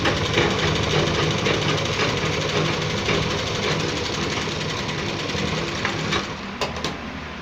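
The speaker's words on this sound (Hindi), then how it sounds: "इसको यहाँ से सिलाई लगाना स्टार्ट कर देंगे" A sewing machine stitching a gents kurta runs in a steady, rapid mechanical chatter for several seconds, close and loud, then stops with a few final clicks.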